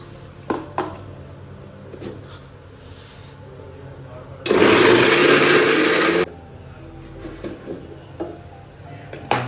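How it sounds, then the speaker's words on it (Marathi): A mixer grinder whirs loudly for about two seconds in one burst, grinding a spice paste, surrounded by quieter clinks and handling noises. "आपण मिक्सरमध्ये आता वाटण करून घेऊया"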